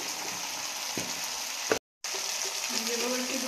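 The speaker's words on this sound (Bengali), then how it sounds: "ভালোভাবে ভেজে নিয়েছি" Vegetables coated in turmeric and spices frying in a pan, a steady close sizzle with a brief stir clatter and a short dropout partway through.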